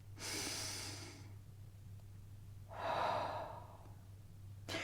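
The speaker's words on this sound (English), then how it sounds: "So if you didn't breathe just now, breathe with me now." A person breathes close to the microphone: a long airy breath, a pause, then a second deep breath, with the start of another at the end, over a low steady hum.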